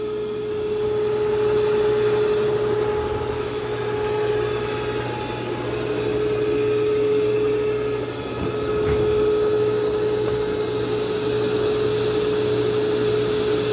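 An iRobot Roomba Plus 505 Combo robot vacuum runs over carpet, a steady close motor whine with a constant tone and gentle swells as it moves.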